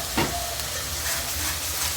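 Raw onion paste with garam masala fries in a pan for chicken korma, giving a brief close sizzle with a stirring scrape near the start, and no one talking.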